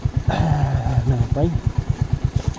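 Royal Enfield Hunter 350 motorcycle idling off-road, its single-cylinder thump pulsing in a steady, regular rhythm close by, while a person talks over it briefly in the middle.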